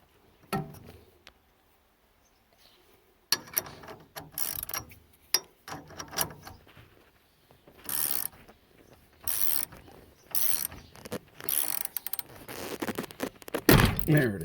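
A steering wheel puller works on a 1966 Mustang steering column, giving scattered metallic clicks, ratcheting turns and clunks separated by quiet gaps, close by with no talking.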